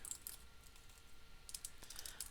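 Soft, quick keystrokes click on a computer keyboard in two short bursts, faint and close with a quiet pause between.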